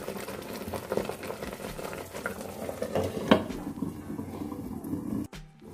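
Eggplant curry simmering covered on a medium flame, a soft continuous bubbling and light sizzle from the pot, fairly quiet and close, ending in a brief clatter.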